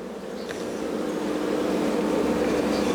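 Honeybees swarm over an open hive during a spring frame inspection, making a dense, steady buzzing drone that stays loud and close and swells slightly over a few seconds, with no voices.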